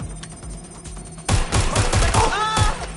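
Gunfire from a shootout in a video game, heard as a sudden burst of rapid, loud shots over steady game music and effects, with a voice speaking briefly amid the shooting.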